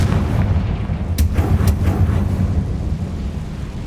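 Confringo blast spell cast in Hogwarts Legacy, a sharp fiery crack or two bursting over a dense low rumble of combat ambience, no talking.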